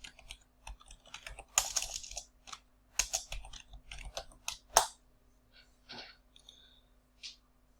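Keys on a computer keyboard clatter in quick, uneven bursts of clicks at close range, a short burst of typing followed by a few scattered taps in a quiet room.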